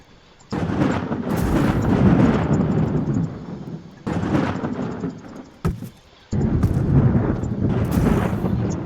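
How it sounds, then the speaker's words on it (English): Booming explosions in the pixel sandbox game Worldbox as elves blow up, loud rumbling blasts in several long surges separated by brief gaps, alone without talk. "there's some elves that are exploding over here"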